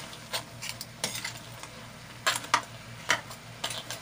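String beans and crab sautéing in a pan, with a soft, steady sizzle under scattered sharp scrapes and clinks of a utensil stirring against the pan.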